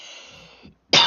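A single short, sharp cough bursts out at the very end, loud and close, after a faint murmur of background sound.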